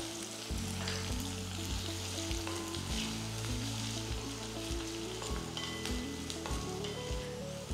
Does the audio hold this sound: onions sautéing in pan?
yes